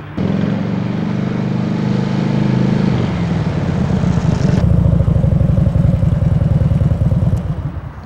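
A motorcycle engine roars loudly and close throughout as the bike brakes to a stop with a slow, steady squeeze; the engine note drops and turns into a lower, rougher throb partway through.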